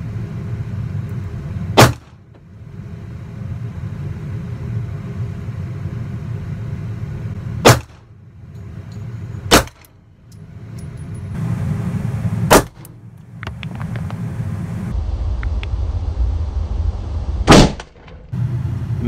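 Shots from an HS H11 pistol loaded with a 9 mm magazine, fired one at a time at uneven intervals, each a sharp loud crack standing out above a steady low rumble.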